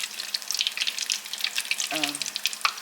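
Grit puppies frying in hot oil until golden brown, a close, steady crackle of bubbling oil with one short voiced sound partway through.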